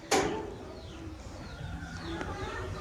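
A pigeon near its nest coos softly in a few low calls after a sharp knock at the start, with faint background noise and no speech.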